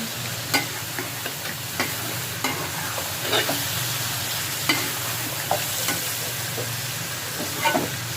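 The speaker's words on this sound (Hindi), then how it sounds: "ये देखें हल्का हल्का फ्राई हो गया प्याज" Onions for vegetable chicken biryani fry in a pan with a steady close sizzle, and a spoon stirs and scrapes them at irregular intervals.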